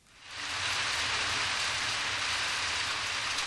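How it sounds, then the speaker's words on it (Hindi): Steady, dense hiss of heavy rain pouring down in an animated show, fading in quickly and then holding constant and loud with no voices. "आओ देखो, बारिश हो रही है।"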